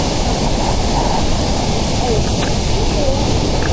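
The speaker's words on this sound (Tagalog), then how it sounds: "So nandito na tayo sa harapan ng falls sa Imogan Falls" Imugan Falls in Nueva Vizcaya, Philippines, a steady loud roar of falling water filling the air, with faint voices mixed in.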